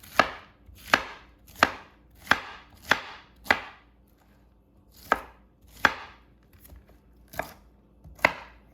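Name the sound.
knife rough chopping cauliflower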